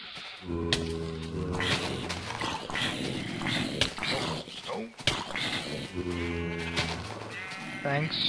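Minecraft sheep bleat repeatedly, each a close, regular wavering call, mixed with game sounds, and someone talks over parts of it.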